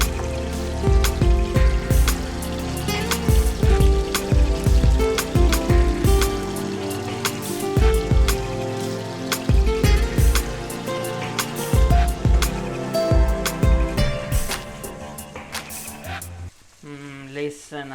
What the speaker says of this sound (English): now the mushrooms are frying with the oil, absorbing all the beautiful taste of the extra virgin olive oil